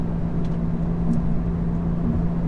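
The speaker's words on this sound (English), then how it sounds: "Just has such a nice engine note, doesn't it?" A 2017 Audi S4 engine drones steadily from inside the cabin while driving slowly in light traffic, a low constant hum with no sharp revving or bursts.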